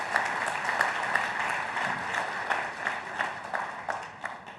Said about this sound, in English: I think that warrants a round of applause